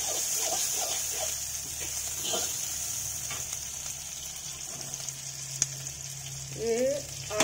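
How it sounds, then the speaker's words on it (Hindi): Maggi noodles frying in a pan with a steady, close sizzle throughout, broken by a few soft stirring scrapes and a brief clink near the end; no one speaks. "ये मैगी बन रही है, ज्यादा नहीं भूनना ठीक है, ज्यादा भून जाती है फिर अच्छी नहीं लगती मैगी में"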